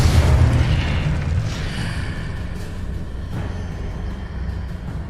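A Confringo spell explosion in Hogwarts Legacy opens with a heavy, close boom, then a sustained low rumble and roar rolling on for several seconds, with a few fainter secondary pops.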